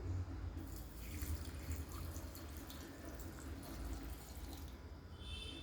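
Cooled water is poured in a continuous stream over gooseberries and green chillies in a pickle jar, a close, even splashing and trickling with no talking.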